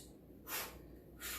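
Two sharp, breathy exhales during kickboxing striking practice, short forceful puffs close to the mic about half a second apart, alone with no talk.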